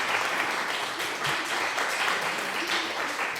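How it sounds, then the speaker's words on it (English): Audience at a stakeholder event gives a continuous round of applause, fairly close and steady, with no talking over it. "Let's give him another round of applause."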